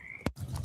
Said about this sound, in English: Where are my frogs at today?